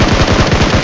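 Sustained automatic gunfire in the PUBG Mobile battle royale game, shots aimed at a fleeing player, a loud rapid burst of evenly spaced rounds filling the whole moment with no talk over it.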